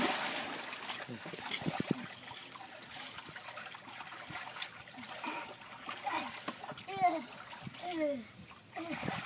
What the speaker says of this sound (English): There's so much water going down the other side and it's splashing out.